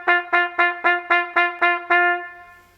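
A quick run of seven bright instrument notes played in steady succession with a clean, ringing ping articulation and no tongue stop, the last note held and left to fade, with no other sound.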